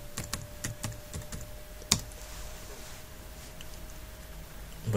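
Login details are typed on a computer keyboard as a close series of quick key clicks, with one sharper tap in the middle. Faint room hum sits underneath.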